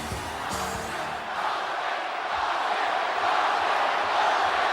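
A large arena crowd at a World Wrestling Federation event roars and chants for Stone Cold Steve Austin, the new WWF Champion, a dense sustained wall of voices that swells slightly louder toward the end.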